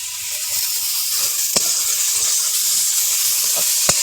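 A ginger, cumin, coriander and black pepper paste fries in a pan with a loud, even sizzle, broken by a few sharp spatula clicks as it is stirred.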